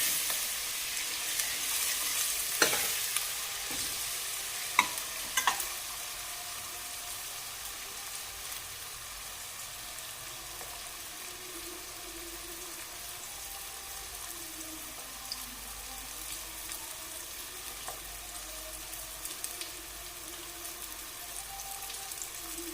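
Tadka for dal sizzles steadily in a pan, a soft, continuous frying hiss with a few sharper clicks and pops near the start, steady and moderately close with no voices.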